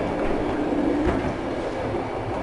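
A steady rumbling roar of an old Yugoslav-built passenger train rolling along the tracks between Montenegro and Serbia, heard from nearby with a continuous rattling noise and no speech.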